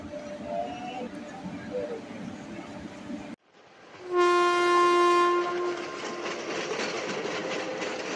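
A Katwa–Azimganj local train pulls away from Miyagram station with a loud, sustained horn blast over ambient rumble, then rolling carriage noise and faint clatter as it gathers pace.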